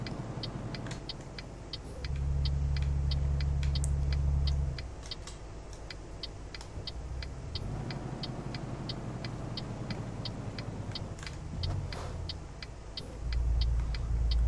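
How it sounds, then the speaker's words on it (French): A heavy truck's exhaust brake in Euro Truck Simulator 2 drones low and loud for a few seconds, fades, then returns in later bursts over steady engine and road noise, with a regular ticking running throughout. "Frein échappement."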